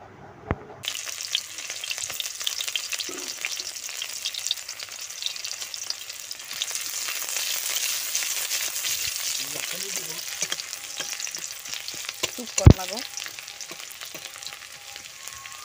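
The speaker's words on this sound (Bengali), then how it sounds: "এরপরে এতে দিয়ে দিচ্ছি পেঁয়াজ কুচি।" Chopped onion frying in hot oil with clove and cinnamon, crackling and sizzling steadily up close, with occasional clinks and stirring scrapes and one sharp knock near the end, no one talking.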